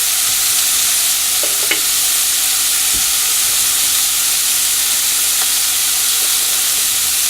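Chicken primavera cooking in a pan under a lid that doesn't quite fit, a loud, continuous hissing sizzle and steam with a couple of faint clicks of a utensil.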